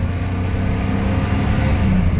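A Maruti Omni van engine picks up speed on the road, with a loud, steady, close motor drone and no pause, and no talking.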